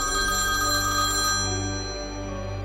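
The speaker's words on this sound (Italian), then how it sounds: "sento arrivare una telefonata" A telephone rings loudly with an incoming call, a bright continuous ringing tone that fills the clip and eases slightly toward the end.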